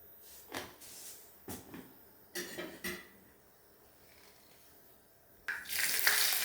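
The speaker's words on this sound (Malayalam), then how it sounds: "അതിനുശേഷം അതിലേക്ക് കടുകിട്ട് പൊട്ടിക്കുക എന്നുള്ളതാണ്." Mustard seeds dropped into hot coconut oil in a clay pot: a few sharp clanks and knocks of utensils, then a sudden loud, steady sizzle with crackling pops close by, without speech.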